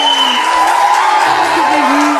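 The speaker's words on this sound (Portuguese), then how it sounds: "Palmas pra ela." Studio audience applauding and whooping as a female guest is welcomed onto a Brazilian talk show, a dense burst of clapping and cheers with a high shout near the start, loud and close throughout.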